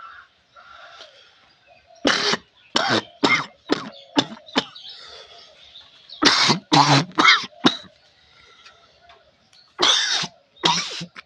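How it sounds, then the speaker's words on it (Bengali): A person with a severe cough coughs hard for a doctor, in several clusters of sharp, loud bursts separated by short quiet pauses. "আপনার কাশিটা একটু দেখান তো কীরকম কাশি আপনার"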